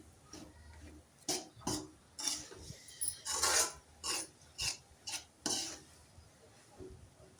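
Carrot and egg stir fry being mixed in a pan, with a steady series of loud scraping, clattering strokes from a utensil against the pan under a faint sizzle.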